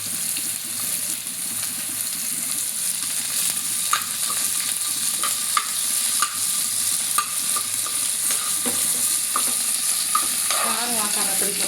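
Curry leaves and onion stir-frying in a pan for a spiced potato dish, a steady close sizzle with occasional spoon scrapes and clinks, no talking.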